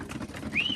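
Young pigeons in a loft coo softly, a low murmuring burble under a brief higher chirp-like call near the end, close and quiet in a short snippet.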